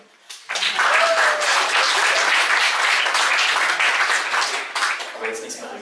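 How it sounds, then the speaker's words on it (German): Audience at a poetry slam in Stadthagen breaks into loud, sustained applause for a performer, dense clapping starting abruptly and holding steady for several seconds before thinning out. "Applaus für Jan."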